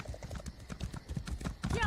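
A horse galloping in the video game ESO: rapid, closely spaced hoofbeats in a continuous driving rhythm, fairly loud and near, with a brief rising whinny-like sweep near the end.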